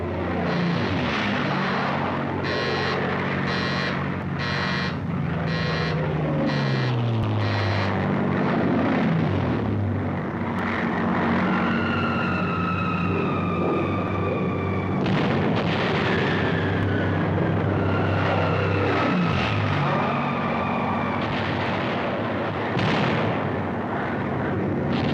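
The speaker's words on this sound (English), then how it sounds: "Suddenly, overhead appear the carrier-based planes of the United States Pacific Fleet." Carrier-based planes and dive bombers of the US Pacific Fleet attack in a Pacific War battle, a loud continuous roar of aircraft engines with rising and falling whines of diving planes over a dense rumble of gunfire and explosions.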